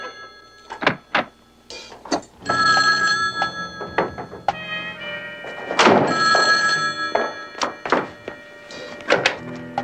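An old-style telephone bell rings repeatedly in a 1970s crime drama, loud and close, its metallic trilling mixed with knocks and clunks nearby and little talk.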